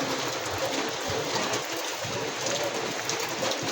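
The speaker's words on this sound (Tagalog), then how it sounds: "Tapos ulan pa, ayan. Muulan na." Steady rain falls outdoors, a broad continuous hiss that holds at an even level throughout with no voices.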